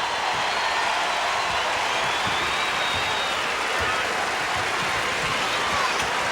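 A basketball arena crowd at a college women's game between UConn and Tennessee roars loud and unbroken, its cheering and applause rising into a dense wall of noise.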